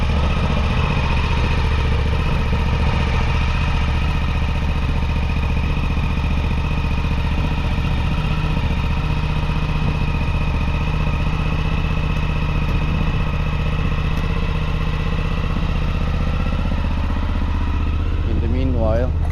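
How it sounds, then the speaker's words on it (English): Suzuki V-Strom 1050DE motorcycle with its stock exhaust idles on a cold engine, a steady, loud, even rumble held close up throughout, with a brief rising rev near the end. "Just so you can hear the stock exhaust."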